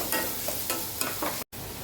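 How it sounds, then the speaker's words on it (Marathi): Onion sautés in a pan for a prawn dish, a close steady sizzle broken by a few stirring scrapes, then a brief cut to silence before the sizzle resumes. "कांदा चांगला परतून घ्यायचा"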